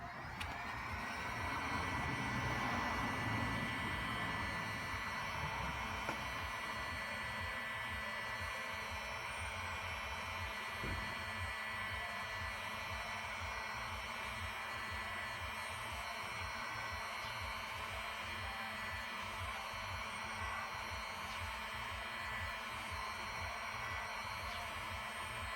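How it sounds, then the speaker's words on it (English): Steady whoosh of a heat gun fitted with a narrowing nozzle, blowing hot air onto a truck decal to soften it; a constant airy hum running unbroken at close range. "This is a heat gun."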